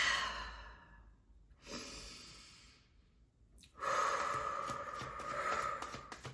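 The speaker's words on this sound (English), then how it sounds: "let's go ahead and take a deep breath" One person takes a slow, deep breath during a calm tarot reading: a soft inhale, a pause, then a long, fuller, close exhale like a sigh, with no talking.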